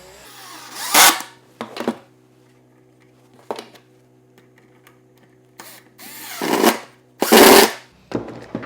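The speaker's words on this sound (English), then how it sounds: "Got my pocket screws in there nice and tight" A power drill drives pocket screws into a wooden shelf strut clamped in place, several short whirring bursts separated by pauses, with a faint steady hum underneath.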